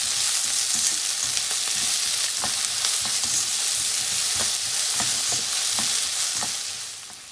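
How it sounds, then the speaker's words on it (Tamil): Onions with a pinch of salt sautéing in a pan until brown for a capsicum potato gravy, a loud, dense, steady sizzle with repeated light scrapes of stirring, fading slightly at the end, with no voices. "ஆனியன் நல்லா ப்ரௌன் கலரில் சேஞ்ச் ஆகிற வரைக்கும் நல்லா வதக்கிக்கலாம்."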